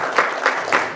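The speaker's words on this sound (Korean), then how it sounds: "박수로 환영해 주시죠." Audience applause at a school ecology education vision ceremony, a steady patter of clapping with three brief swells as names are welcomed, close and fairly loud.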